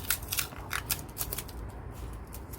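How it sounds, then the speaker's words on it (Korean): A package of heat-resistant spray being torn open: quick papery rips and crinkles in short bursts, then fainter rustling, close and alone. "뜯어볼게요."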